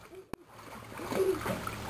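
A child splashing while swimming near a ladder in cottage water, a brief sharp knock followed by steady close-up splashing and sloshing.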